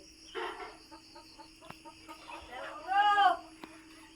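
Domestic ducks calling in short, clucking bursts, the loudest run of calls near the end, while people talk nearby.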